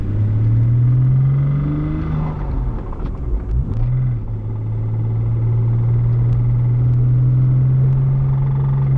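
A worn 2.7-liter six-cylinder engine in a Porsche Boxster drives steadily, a loud low interior drone holding a constant pitch, dipping briefly as if shifting gear before settling back, with no talk over it.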